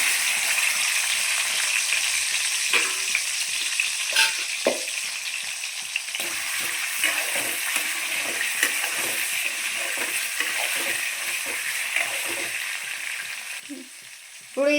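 Boiled bitter gourd fries in oil in a pan, producing a steady, close sizzle with repeated stirring clatters and scrapes; the frying hiss continues until it stops abruptly near the end.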